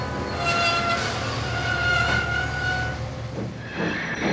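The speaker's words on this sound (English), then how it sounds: "Whereas Mavis's brakes sound like this." A diesel shunter engine braking gives a loud, continuous rumble of rolling rail wheels with high metallic squeals rising above it, close and steady throughout.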